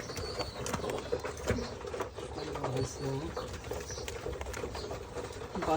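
Domestic pigeons on a pigeon farm give repeated low cooing calls, close and moderately loud against a busy, noisy coop background.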